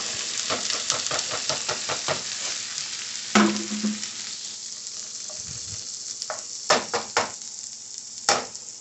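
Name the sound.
broccoli, mushrooms, peppers and tomatoes frying in a pan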